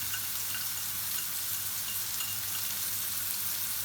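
Chopped ginger and garlic stir-frying in a hot pan for prawn fried rice, a steady close sizzle with soft stirring scrapes throughout, no voices.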